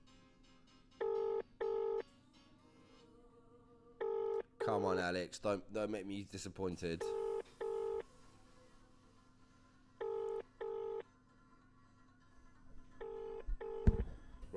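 Repeated paired dialing tones and ringing from an outgoing phone call to an English number, spaced evenly with a short burst of talking midway and faint voices murmuring underneath.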